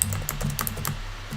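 Typing on a computer keyboard, a quick run of close crisp key clicks in an irregular patter over a short burst, with no talking.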